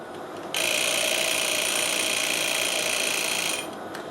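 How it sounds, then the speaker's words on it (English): A kitchen timer for boiling pasta rings with a steady, continuous electronic buzz for about three seconds, then cuts off, loud and close against a faint room background. "There goes the timer for our pasta."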